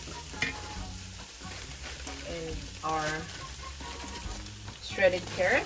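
Chicken, broccoli and shredded carrots being stirred and tossed in a hot pan, with a steady sizzle and scraping stir strokes under a person talking.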